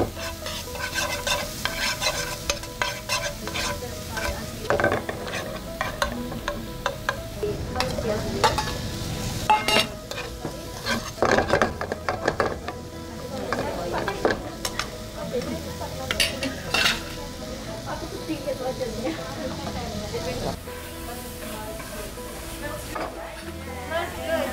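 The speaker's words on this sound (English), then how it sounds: "the first time we fried the fine chopped onion while following with the garlic" Chopped onion and garlic frying in a few drops of oil in a pan during a low-salt, low-sugar cooking class, with steady sizzling and repeated stirring and scraping, under ongoing talk.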